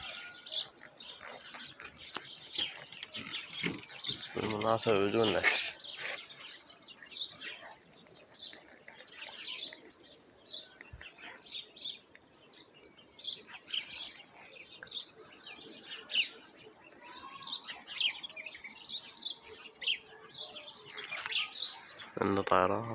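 Pigeons fly and call over a rooftop pigeon loft, with steady faint chirps and coos throughout and occasional wing flaps, while people talk nearby.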